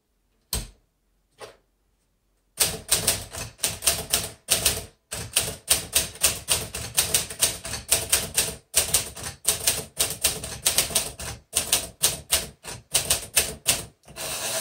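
Brisk typing on a 1949 Smith Corona Silent manual typewriter, dense runs of sharp key strikes with brief pauses, following two isolated clacks near the start, close and clear with no voices.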